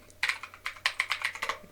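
A gaming computer keyboard is typed on in a short burst of about a dozen sharp, close key clicks at an uneven quick rhythm, with no talking.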